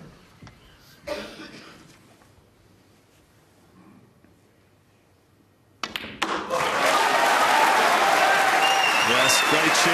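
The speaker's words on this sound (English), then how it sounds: "great cheer from the Crucible crowd" The Crucible crowd at a 2013 snooker match breaks into loud, sustained applause and cheering for a century break, rising abruptly after a quieter stretch with scattered coughs and murmurs.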